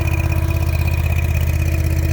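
Skid steer loader engine idling nearby, a steady rough mechanical drone with a fast regular pulse and a constant hum, no voices.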